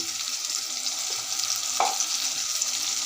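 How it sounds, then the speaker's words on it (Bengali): Onions frying with ginger-garlic paste in a pan, a soft continuous sizzle with faint stirring scrapes and one small knock partway through. "পেঁয়াজগুলো একটু লাল লাল করে ভেজে নেব"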